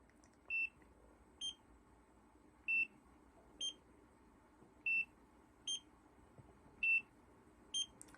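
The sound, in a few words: Nira precision laser device beeping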